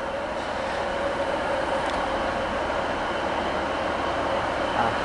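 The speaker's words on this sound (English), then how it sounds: "There's an LNER 800 over there. This will be running from Peterborough to Doncaster." An LNER Class 800 train runs from Peterborough to Doncaster, heard at Lincoln as a steady, moderately distant rumble and roar of rolling stock that holds at an even level throughout, with no voices.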